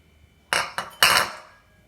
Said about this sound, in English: Now you're gonna put egg yolk into the saucepan, and then all the dry ingredients.